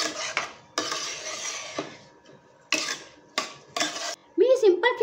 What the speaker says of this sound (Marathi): आता आपण हे तांदूळ तुपामध्ये छान असे परतून घ्यायचे.